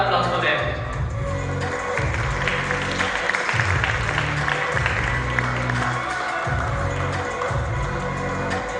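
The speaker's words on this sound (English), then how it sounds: "a big round of applause for them." Applause from an audience at a college annual commerce day event, with steady crowd clapping and a low hum under an announcer's amplified voice.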